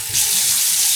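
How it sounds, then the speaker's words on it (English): Water pours or runs steadily into measuring cups for home yarn dyeing, a loud, close rushing that lasts about a second without a break. "Now we're going to add in water."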